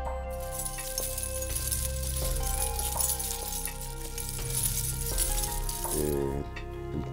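Keys jangle and clink continuously while doors are opened in the Vatican Museums, a close metallic chiming that runs steadily throughout.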